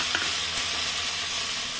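Tomatoes dropped into browned onions in a pan for a potato and tomato curry, giving a loud, steady, close sizzle with a few stirring scrapes and no talking.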